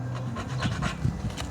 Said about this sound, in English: I just go 3 inches, scribe a line, 3 inches down